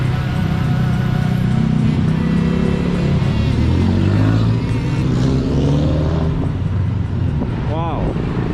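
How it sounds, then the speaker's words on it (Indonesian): A passing angkot minibus on a Denpasar street in Bali, its engine rumbling loud and close amid steady traffic noise, with a voice talking over it. "Sini ada angkot."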